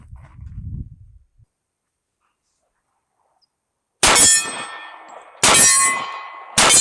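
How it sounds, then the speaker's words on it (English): A California-version Kriss Vector pistol-caliber carbine fires at steel targets about 40 yards away: three loud, sharp impacts with bright ringing metallic decay, after a short stretch of near silence. "We're shooting at steel targets at about 40 yards."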